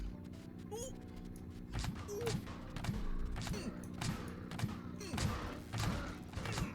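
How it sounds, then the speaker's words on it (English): Automatic spud gun turrets firing in Scrap Mechanic, with a string of dull thumping shots at an irregular pace, fairly faint and set against a low steady game background. "look at these turrets going off"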